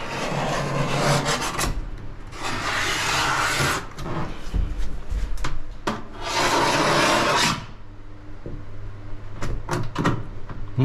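A hand saw rasps back and forth in long strokes while removing a sailboat's shower pan, pausing between bursts, with scattered knocks and clatter in between.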